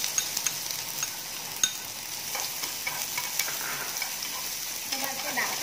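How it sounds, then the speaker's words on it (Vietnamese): Minced garlic and shallots sizzle steadily in hot oil, with occasional spoon clicks and stirring scrapes, close and continuous without speech. "Khi dầu nóng các bạn sẽ cho một ít hành tỏi băm vào đây."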